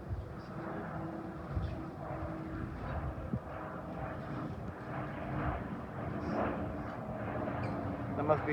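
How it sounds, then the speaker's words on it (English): A British Airways Airbus A320 passes overhead near a London Overground station, giving a steady, moderately loud low rumble that swells and fades, with faint background voices. "There must be an Airbus A320 of British Airways from Malta."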